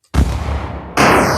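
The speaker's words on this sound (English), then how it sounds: "explosion is working." An explosion effect in a Unity 3D endless car shooter game: a sudden loud booming blast that rumbles and decays, followed by a second bright, loud burst near the end.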